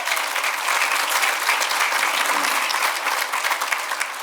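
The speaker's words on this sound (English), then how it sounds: "Give them a round of applause." Loud, sustained applause fills a luncheon room as the audience honors organizers for reviving a club event, a dense, continuous roar of clapping close by with a few faint voices mixed in.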